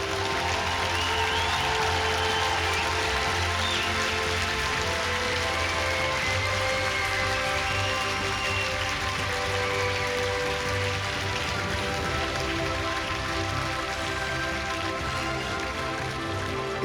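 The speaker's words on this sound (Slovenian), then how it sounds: "Dajmo vsi skupaj en velik aplavz za vse prisotne." Sustained applause from a large audience fills a sports centre hall during an opening ceremony, a dense, steady wash of clapping that continues at even loudness without pause and without talk.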